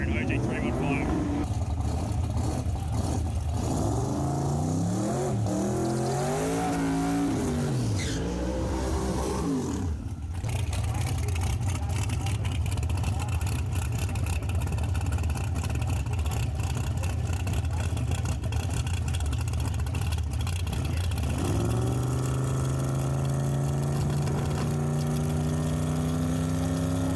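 Drag racing car at the Kenda Radial Riot heading up for its first pass, with a loud engine roaring and shifting pitch, rising tones near the end, and talk mixed in under the engine.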